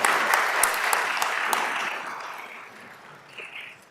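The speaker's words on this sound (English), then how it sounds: "So if you can all give yourselves a round of applause." Audience applause for graduates at a Certified Public Manager Program graduation ceremony, a steady round of clapping that fades gradually over about four seconds.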